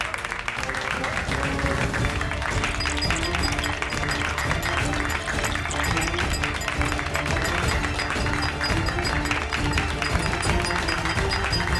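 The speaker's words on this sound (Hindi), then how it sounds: "चलो अब सब मिलके एक साथ ताली बजाओ।" A group of people clap together in a steady, dense stream over background music, loud and continuous throughout, with no voices standing out.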